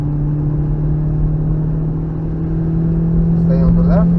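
Car engine accelerating hard on the Nürburgring Nordschleife in the rain, a steady loud drone with a rising hum near the end, with an instructor talking over it throughout.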